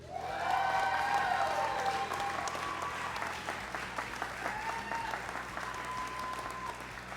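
Sustained applause from a graduation ceremony crowd, dense and steady with scattered whoops and a brief voice rising above it, fading slightly but holding on throughout.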